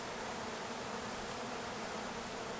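Honey bees swarm-buzzing inside a large hive in an abandoned chicken barn, a dense, continuous, even hum filling the space close up with no pauses or voices.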